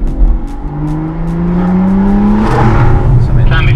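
Aston Martin V12 engine, on a Vanquish S, V12 Vantage or DB11, revving and gargling from inside the car, pitch rising steadily as it accelerates, loud and raw, with a voice talking over it.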